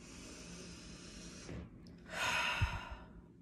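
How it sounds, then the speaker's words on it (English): One slow, deep breath taken during a calming tapping exercise, a long soft inhale followed by an audible exhale, close and quiet with no talking. "Go ahead and take a nice deep breath."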